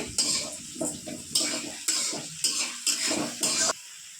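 Sliced onions with a bay leaf fry in hot oil with garlic for a yogurt pangas fish curry, a spatula scraping through them in about six rhythmic strokes over a steady close sizzle, with no talking.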